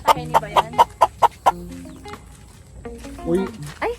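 A rapid series of seven sharp clucks from chickens in the first half, followed by quieter squawks and scattered bird calls against a low background hum.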